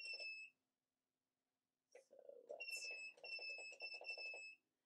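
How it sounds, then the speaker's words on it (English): A heat press control panel, set to about 275 degrees, emits a shrill electronic beep, then after a pause a steady run of rapid repeated beeps, close by and alone. "I know that beeping is horrible."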